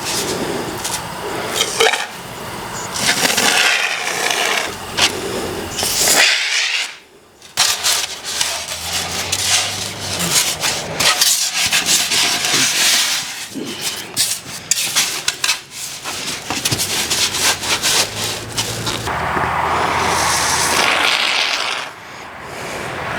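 Rotary tool grinding and carving a custom dash panel for a Willys build, rough scraping and buzzing bursts close by that change pitch and pause repeatedly, a long continuous passage with short breaks.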